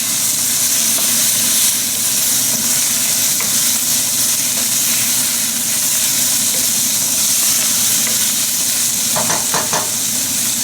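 Garlic cloves sizzle steadily in a hot wok, a loud, continuous frying hiss with faint stirring scrapes near the end.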